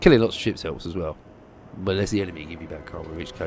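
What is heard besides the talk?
No everyday noise stands out behind the speech.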